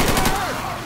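Rapid automatic gunfire in a zombie survival video game, a short dense burst of shots up close with a voice over it, fading after about half a second.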